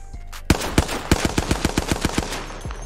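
Rapid video game weapon fire, a burst of about a dozen sharp shots in quick succession, loud and close with no talking over it.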